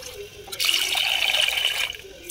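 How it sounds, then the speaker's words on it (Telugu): Water splashes and swirls in a bowl of rice being rinsed by hand, a short, close burst of running, sloshing water that swells and then fades. "ఇంకొకసారి కడుక్కొని మనం బియ్యాన్ని ఇలా వేసి కడుక్కోవాలి"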